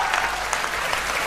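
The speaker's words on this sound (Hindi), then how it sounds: "दोनों हाथ उठा के तालियों का महोत्सव करना" A poetry recital audience claps loudly and continuously in a dense, steady burst of applause that fills the whole short moment, with no voices above it.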